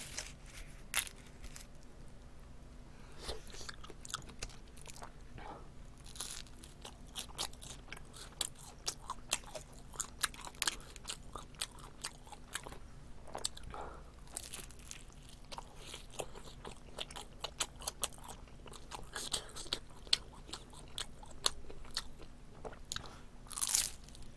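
Someone bites and chews Domino's thin-crust hot shrimp pizza up close, with sharp, irregular crunches and crackles over a quiet background and steady chewing between them, without talk.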